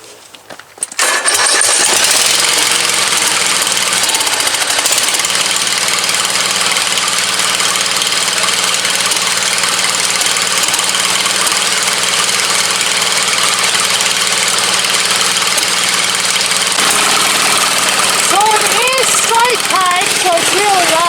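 A lawn mower engine, nearly out of fuel and started with a jumper cable, catches after a brief crank and runs loud and steady up close, with a voice faintly heard near the end.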